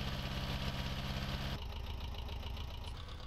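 An old tractor engine idles in a farming video game, a loud steady chugging that drops to a lower, rougher idle about halfway through.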